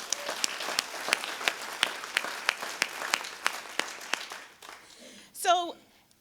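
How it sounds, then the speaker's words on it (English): Hands clapping from an audience at a Rotary club's 100th anniversary celebration, a thin, fairly slow patter of distinct claps fading out before a brief voice at the end. "Let's give you a hand clap for that."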